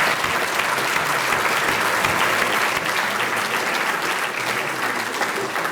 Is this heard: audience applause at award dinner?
yes